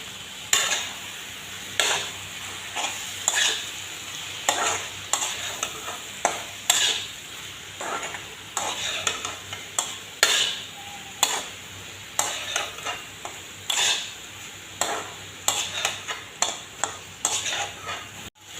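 Raw fish pieces sizzle as they fry in a pan, stirred again and again with a utensil, each stroke a close scrape over a steady frying hiss.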